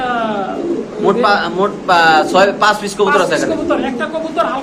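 White Lakha pigeons coo in a close, busy chorus of repeated throaty rolling calls, overlapping one another at a market stall with a person talking over them.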